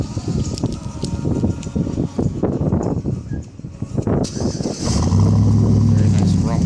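Custom Magnaflow dual exhaust on a 2012 GMC Sierra 1500 extended cab 4x2 pickup, settling into a deep steady idle rumble near the end after a stretch of speech.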